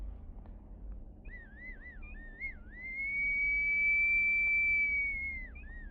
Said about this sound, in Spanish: el pequeño silbato que tiene realizado, que funciona con las mínimas variables del aire dentro de las vasijas y produce un sonido realmente sorprendente